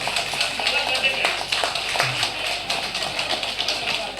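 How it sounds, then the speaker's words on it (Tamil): An audience at a Tamil lecture claps hands in steady, dense applause that runs throughout, with a voice speaking over it. "ஒரு தடவை கை தட்டுங்க எல்லாரும் கேட்கல இன்னும் சத்தமாக தட்டுங்க"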